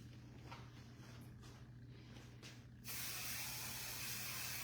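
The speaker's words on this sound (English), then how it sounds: "I'm just going to spray that hair in place." Volumizing firm-hold hairspray is misted onto long hair in a single steady burst of close, bright hiss, which follows a few seconds of quiet room noise and runs to the end.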